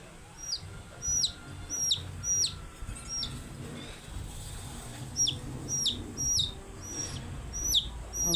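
Chicks chirping in rapid high repeated peeps, with chickens clucking low underneath, close and frequent across the whole stretch amid faint background murmur.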